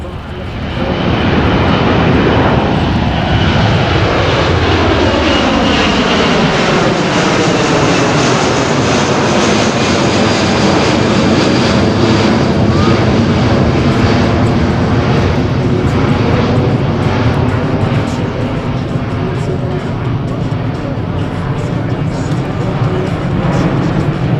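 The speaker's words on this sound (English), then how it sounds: "Watch now and be impressed by the Boeing C-17 Globemaster III. Nose is up. The aircraft off the ground." A Boeing C-17 Globemaster III takes off during an airshow demonstration in New York, its jet engines roaring loudly and steadily throughout the climb, with a descending whine as it moves past.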